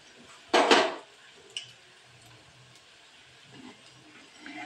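A ladle turns onion bajji frying in oil in a home kitchen. One sharp metallic scrape is followed by a fainter clink and then a soft, low sizzle.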